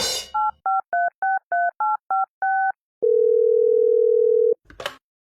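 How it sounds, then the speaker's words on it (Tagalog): A telephone keypad dials eight quick tones in a steady rhythm as a call is placed, then one long, even tone holds for about a second and a half before a brief click of noise. No one speaks. "O ito, tatawagan natin si Erwin."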